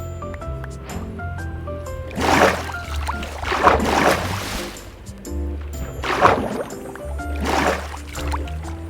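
Underwater ambience in Minecraft: muffled, rolling swells of water swish in and out in slow waves over a low steady drone and game tones, with no talk.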